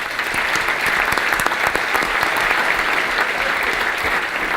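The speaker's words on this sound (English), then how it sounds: "So let's just round of applause for those two." Audience at a chamber of commerce luncheon breaks into steady, dense applause, many hands clapping at close range for several seconds without pause.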